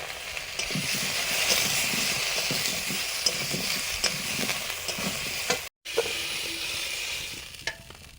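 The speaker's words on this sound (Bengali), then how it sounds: "সবজিগুলো ভাজা হয়ে গেছে।" Potatoes, cauliflower and kohlrabi fry in a pan, giving a steady close sizzle with repeated scraping and clinks of a spatula stirring the vegetables, and a brief dropout partway through.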